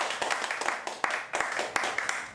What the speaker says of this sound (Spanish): Dame otro aplauso, Señor.